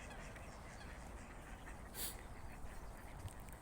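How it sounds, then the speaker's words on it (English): Ducks quack in Dartmouth Park, West Bromwich, faint and somewhat distant over a soft outdoor hiss, with one brief louder call standing out. "Lots of ducks."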